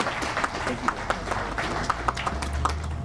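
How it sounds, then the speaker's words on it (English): Audience applause greets a speaker from Ford Motor Company at a public event, a steady wash of clapping from a room full of people, fairly loud and continuous. "Give him a great round of applause."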